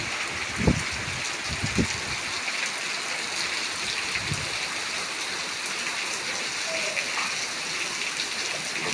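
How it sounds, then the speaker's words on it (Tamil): Steady, heavy downpour over Tiruppur with a broad hiss of falling water and running flow, a few brief louder thumps early on, and faint voices now and then beneath the constant rain. "திருப்பூர்ல மழை சரியான மழை அடிச்சு விட்டுது"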